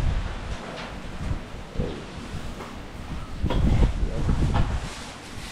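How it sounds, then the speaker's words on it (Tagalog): Strong wind gusts roar and buffet the microphone at a building site, swelling and easing over several seconds, with a brief exclamation from a person. "Uy, lakas ang hangin mga chubs o"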